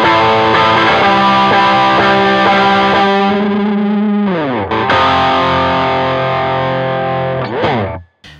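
Distorted electric guitar strummed, thick crunchy chords ringing loud and sustained, with a sliding chord change midway and a final abrupt cutoff, no voices.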